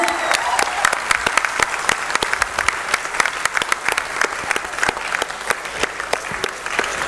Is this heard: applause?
yes